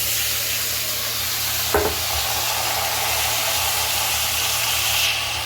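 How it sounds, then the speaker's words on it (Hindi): Fenugreek seeds and red chili crackle in hot oil as a tempering for a home-cooked vegetable dish, a steady close sizzle and hiss with one brief clatter partway through, no voices. "मेथी और लाल मिर्च से दे दिया तड़का मैंने, ये देखिए"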